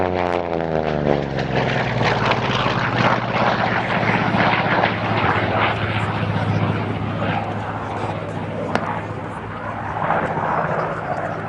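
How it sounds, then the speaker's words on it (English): A Goodyear FG-1D Corsair propeller fighter flies past at an air show, its engine drone loud and rising, then falling away as the pitch sweeps down. A commentator's voice is faintly heard under it. "in from the left then, the Goodyear FG1D Corsair"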